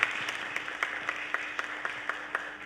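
An audience at the Delhi Literature Festival claps for a speaker: a thin, moderate patter of hands over a steady room hum, with a few sharper individual claps standing out at irregular intervals.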